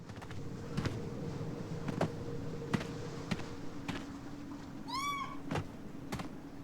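Steady dull thuds, like footsteps, repeat through a game cave in Minute of Islands, and one distinct cat meow sounds near the end, moderately loud against the muted backdrop.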